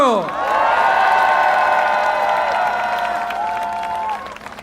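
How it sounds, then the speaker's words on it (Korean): A crowd at a campaign rally in Gwangjin, Seoul, claps and cheers beneath a loud, sustained tonal blare that swoops down at the start, then holds and fades away near the end. "자, 박수 한번 주십시오."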